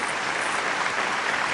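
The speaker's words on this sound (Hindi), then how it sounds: "किया तो जरा जोरदार ताली" Loud, dense applause from a Hindi poetry-recital audience at a hasya kavita event, a steady wash of many hands clapping with no talk over it.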